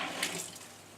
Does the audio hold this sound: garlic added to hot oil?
no